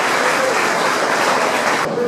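An audience applauds steadily at a Nepal earthquake-relief community gathering in the Maryland and D.C. area, giving a dense, continuous wash of clapping with no talk over it.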